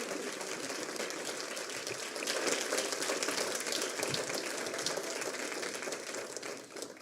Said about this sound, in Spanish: Yo le doy un aplauso al Señor por ello.